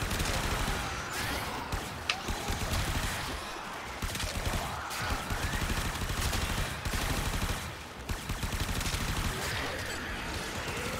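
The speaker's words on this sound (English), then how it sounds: "I actually get bonus affinity for shooting stuff." Guns fire in Warframe as rapid, dense bursts of shots rattle across the whole clip with only brief pauses. The firing sits at a moderate level with faint game effects underneath.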